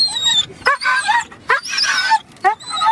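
A dog whimpers and yips in short, close, high-pitched bursts, several cries separated by brief pauses, loud and with no talking over them.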